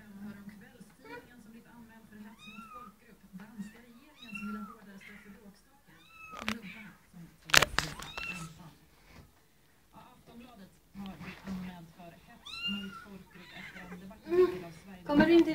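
Cornish Rex kittens meow repeatedly at close range in a home, their cries interleaved with a person talking to them throughout and a couple of brief louder knocks.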